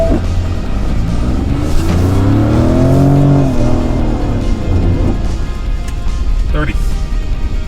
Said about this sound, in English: let's do a little bit of a 0 to 30 acceleration run